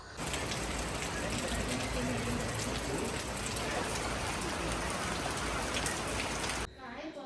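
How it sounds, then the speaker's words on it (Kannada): Heavy thunderstorm rain pours down in a continuous, dense roar of drops on surfaces, steady and close for several seconds before cutting off abruptly near the end. "ಗುಡುಗು ಸಿಡ್ಲು ಸಹ ಇದೆ ಹಾಗಾಗಿ ಸ್ವಲ್ಪ ಮಳೆ ನಿಲ್ತಲ್ಲ ಹೋಗೋಣ ಅಂತ ಅಂದ್ಕೊಂಡ್ವು"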